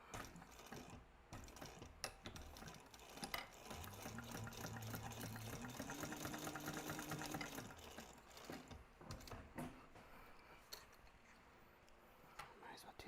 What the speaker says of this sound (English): we're going to sew that gusset addition to the top